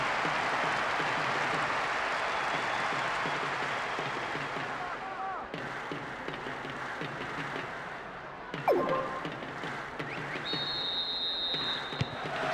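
A stadium crowd in PES 2009 roars steadily after a goal, a broad sustained cheer with a few brief knocks and a faint whistle-like tone near the end.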